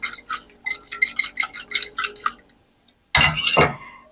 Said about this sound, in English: So I'm going to whisk the egg. You can use a whisk or I'm using a fork.